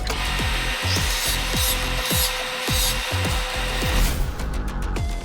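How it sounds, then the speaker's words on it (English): Abrasive rubbing of sandpaper against a small handmade DIY craft figure, heard as repeated rhythmic back-and-forth strokes, close and steady, with no talking. "Take what's left and sand it into place"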